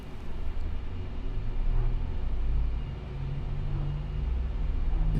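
Airbus A319 engine spooling up in the flight simulator Aerofly FS 4, a steady low rumble and hiss that swells and dips slightly, moderately loud.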